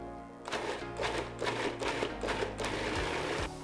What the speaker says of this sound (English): Here is your cottage cheese going in. Blend until smooth.